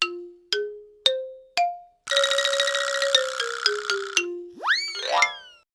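Drum-machine ringtone from a Xiaomi Smart Doorbell 2 indoor speaker: four spaced synthetic tom hits, then a dense rattling electronic drum roll with stepped pitches, ending in rising swooping boing-like sweeps, close and clean with no talk.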